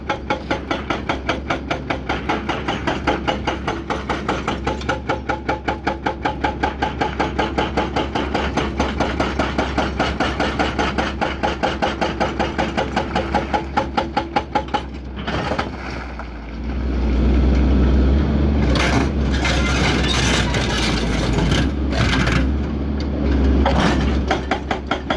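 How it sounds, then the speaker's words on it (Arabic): A backhoe excavator working on a mountain road project, with a steady rhythmic mechanical chugging for most of the clip, then a rough roar with wind buffeting and scraping noises, loud and close. "هذا البوكلير الثاني الذي بيشتغل"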